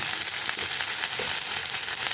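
Cauliflower frying in a pan of oil, a loud, dense, continuous sizzle close to the microphone, steady throughout with no talking.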